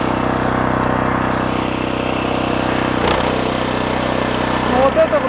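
A NEVA walk-behind tractor engine runs loud and steady while plowing soil, a continuous close drone with a short clunk partway through.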